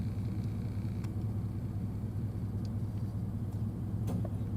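A car driving along a rural road past a cattle guard: a steady low engine and road rumble fills the cabin, with a few faint clicks and rattles over it.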